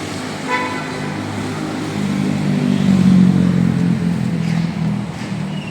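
A motorcycle passing on a road, its engine hum swelling to a peak midway and then fading, with a car horn toot and background traffic.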